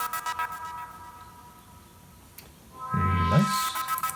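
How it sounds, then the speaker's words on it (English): A rhythmic synth line from a song in Shrimp Game has its volume gated to the beat, pulsing steadily. A deeper tone swells in underneath toward the end. "The rhythm comes from basically changing the volume of the synth to the beat."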